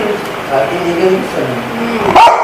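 A dog yips, barks and whimpers indoors in short bursts, mixed with people talking nearby.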